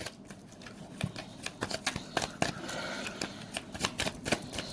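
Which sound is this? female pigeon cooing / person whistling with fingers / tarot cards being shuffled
tarot cards being shuffled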